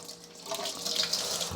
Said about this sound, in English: So I'm just going to rinse it off into my bowl.